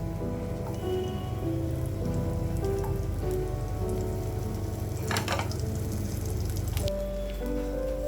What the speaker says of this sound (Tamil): எதுவுமே மசாலாலாம் கலராது, அழகாக சூப்பராக பொரிஞ்சு வந்துடும்